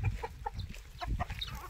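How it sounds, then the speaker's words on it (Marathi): Chickens cluck in short, repeated bursts on a farm among a mixed flock of fowl and turkeys, close and fairly loud, with a few overlapping calls and no talk. "ही सगळी कोंबड्यांची, चिनी कोंबडीची, टर्कीची गँग ही सगळी एकीकडे असत्या"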